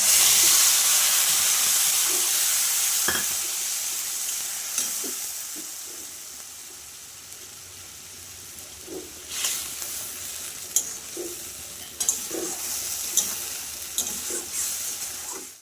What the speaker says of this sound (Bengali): ফোড়নটা হয়ে গেলে আমি মশলাটা ঢেলে দিচ্ছি